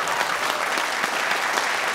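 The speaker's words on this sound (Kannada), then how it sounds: "ಜೋರ್ ಚಪ್ಪಾಳೆ ಇಬ್ರಿಗೂ" Loud, dense applause from a studio audience for both contestants on a Kannada minute-challenge game show, steady and sustained throughout with no speech over it.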